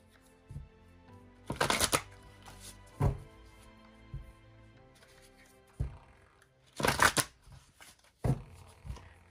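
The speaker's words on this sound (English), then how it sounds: "I did a lot of pre-shuffling and the cards are just about ready." Tarot cards being shuffled by hand in several bursts, each a quick flurry of riffling and slapping card edges, separated by quieter pauses with soft taps and handling noises close up.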